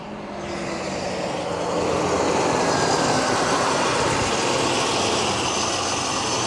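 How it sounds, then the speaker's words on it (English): The V8 of a Mercedes-Benz 560 SEC (C126) starts up and settles into a smooth, steady running roar, heard up close, with fan noise dominating and no one speaking. "I shall fire it up for you so you can hear how marvellous it sounds"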